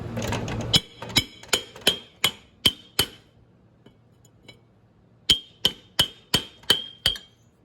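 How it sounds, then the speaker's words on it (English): Sharp metallic hammer strikes on a machine during a spindle change ring out in two bursts of about six or seven blows each, steady and loud, with a short quiet gap between them. "You gotta put the hammer to them."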